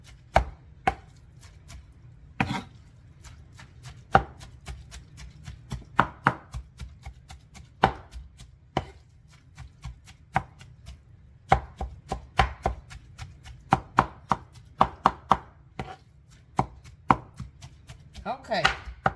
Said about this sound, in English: Keep cutting it.